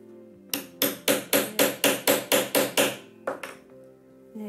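A hammer taps about ten times in an even, quick rhythm, then twice more after a pause, while finishing the elastic on a handmade paper concertina mini-album, close and crisp on a hard surface.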